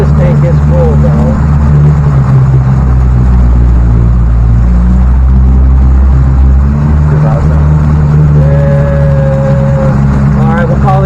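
A Yamaha 70HP outboard motor pushes a MacGregor 26X sailboat at about 2,000 RPM, holding a steady, loud low drone with a constant hum and faint higher whines over the full stretch.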